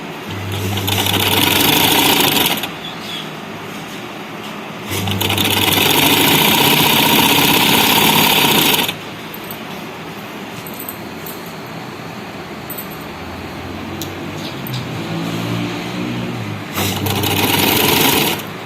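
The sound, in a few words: sewing machine doing single stitching on fabric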